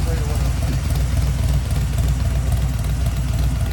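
A 1973 Ford Bronco with a 347 stroker engine and five-speed AX15 transmission out on a test ride, giving a loud, steady, deep low rumble throughout, with voices under the engine.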